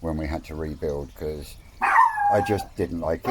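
A dog barks once, close and loud, around the middle of steady talking, with a voice continuing before and after.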